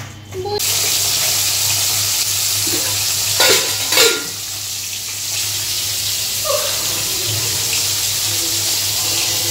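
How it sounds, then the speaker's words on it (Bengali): Fish frying in hot oil at home alongside rice cooking, giving a steady loud sizzle throughout with a few brief clatters of utensils over a constant low hum. "তো মাছ ভাজা তো চলছে"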